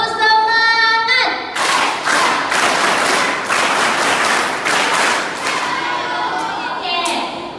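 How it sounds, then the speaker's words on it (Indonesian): A grade six primary school class performs a rhythmic clapping chant, voices sing a short cue before loud patterned group claps and thumps follow in a steady beat, with chanting mixed in. "Oke, tepuk semangat!"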